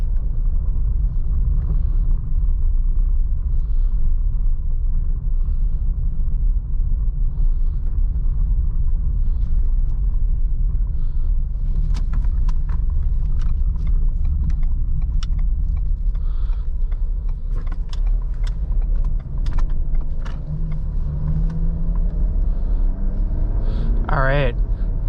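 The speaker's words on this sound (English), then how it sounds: "it feels very competent over this like gravel-y kind of road right here." A 2022 Ford Explorer SUV rolls over a gravel road, with a steady low rumble of road and engine noise throughout and scattered crunchy ticks from the stones in the latter half. Someone talks over the drive.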